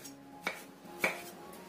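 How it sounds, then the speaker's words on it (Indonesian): A knife slices a cucumber thinly on a diagonal, landing two distinct taps on the cutting board plus a softer third. The cuts are close and quiet, with faint room noise between them and no speech. "Kemudian kita iris tipis-tipis aja, serong seperti ini."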